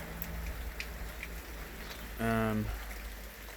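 Light rain falls steadily in a garden, a soft even patter close by, briefly joined by a low tonal hum near the middle.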